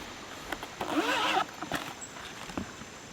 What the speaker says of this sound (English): you have a zipper that goes all the way around.